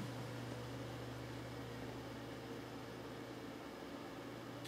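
A Noctua CPU cooler fan, NH-U14S or NH-D14, settles into a steady, quiet low hum with broadband airy whir, constant and alone, no voices.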